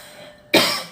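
A single sharp cough bursts out abruptly after a quiet moment, close and loud, trailing off briefly.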